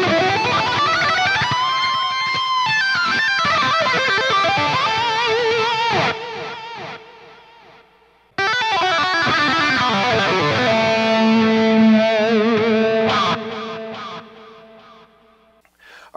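Distorted electric guitar through an amp modeler plays sustained chords and melodic lines with delay and reverb trails, pausing briefly midway before resuming.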